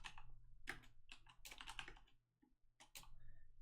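A computer keyboard clatters under quick bursts of typing, with crisp close clicks in short clusters and a brief pause partway through, quiet overall and with no voices.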